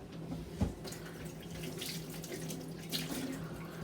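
Tap water runs into a kitchen sink while a cut vegetable is rinsed, a steady splashing rush with brief clunks, close and alone without talk.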